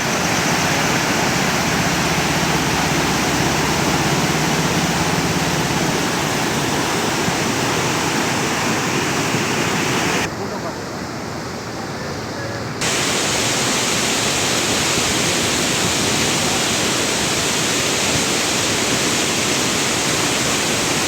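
Water pours over the Dhalegaon barrage on the brim-full Godavari river, a loud, steady broadband roar that continues throughout, briefly dipping for a couple of seconds midway before resuming at full strength.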